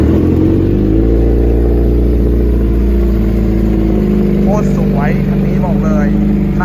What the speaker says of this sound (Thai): เอาเสียเครื่องยนต์